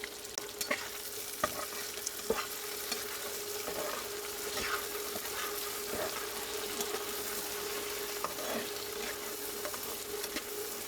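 Shrimp fry in oil in a pan alongside onion, garlic and green chili, giving a steady broadband sizzle with scattered pops and occasional stirring clicks throughout, with no voices.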